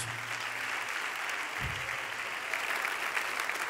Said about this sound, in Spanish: Un aplauso más fuerte a mi Señor Jesús.